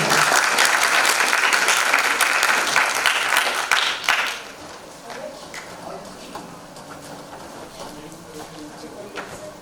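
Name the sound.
audience applause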